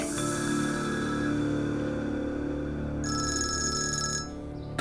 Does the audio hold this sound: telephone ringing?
yes